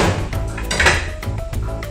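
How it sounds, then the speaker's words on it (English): The flat side of a kitchen knife strikes a garlic clove on a cutting board, giving a few dull, clattery knocks close up among light kitchen handling sounds. "Just put the knife, side on the garlic and give it a hit."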